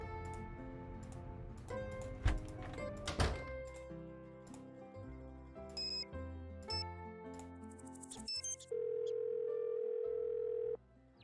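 A telephone in a Nancy Drew mystery game: a few clicks and button tones from dialling, then a steady, even dial tone holds for about two seconds near the end.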